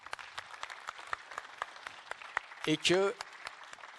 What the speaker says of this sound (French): Ce que je propose maintenant, c'est que vous soyez chaleureusement applaudis.